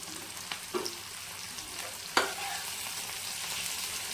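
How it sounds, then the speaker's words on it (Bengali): A soft, steady sizzle of tomato and onion frying in a pan with garlic paste and green chillies, with a few light scrapes and a sharper clink from stirring. "টমেটো আর পেঁয়াজ একসাথে ভালো করে ভাজা হয়ে গেছে"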